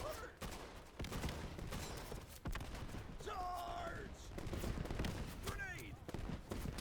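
Rapid gunfire in the WWII shooter Easy Red 2, with an M1 Garand among the weapons, sharp cracks and bursts scattered through a chaotic battle soundscape, some shots close and loud, others further off, with whistling tones mixed in.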